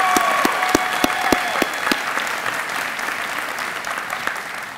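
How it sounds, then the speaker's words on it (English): Sustained audience applause at a Houston Police cadet class graduation ceremony, a dense steady roar of clapping with a few sharper claps early on, continuing evenly throughout without talk. "Let's give him another round of applause for that excellent speech."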